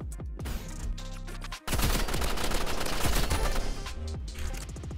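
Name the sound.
Uzi gunfire in video game Roblox Rivals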